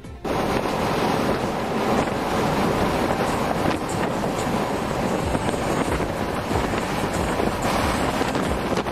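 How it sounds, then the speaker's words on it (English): Strong, continuous wind gusting over 50 miles per hour on a bridge, roaring and buffeting the microphone, loud and steady throughout with rushing gusts and no voices. "experienced a bit of a breeze while crossing a bridge mid-race."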